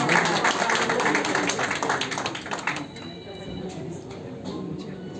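Dense clapping from an audience at a public political rally in a hotel hall in Karnal, loud and steady at first, then thinning out, with voices mixed in beneath it.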